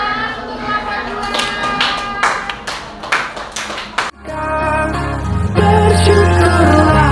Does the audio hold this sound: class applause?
yes